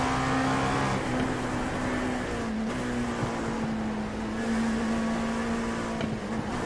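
Onboard engine of the 323 race car at Mosport, a loud, steady drone held at high revs with a brief dip and recovery partway through, close and continuous with no voices over it.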